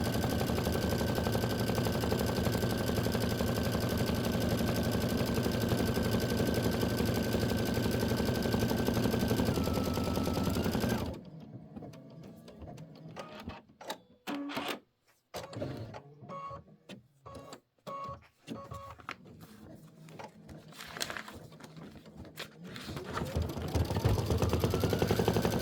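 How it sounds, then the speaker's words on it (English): A computerized embroidery machine stitching a quilt block hums loudly with a steady mechanical drone and a fixed tone for about ten seconds. Then it drops to faint, broken rattles and clicks, with the steady running sound rising again near the end. "This is a minute of stitching."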